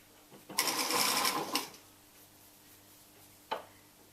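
A sewing machine runs a small, thin seam on a neck warmer, whirring steadily and close for about a second before stopping, followed later by one brief short burst.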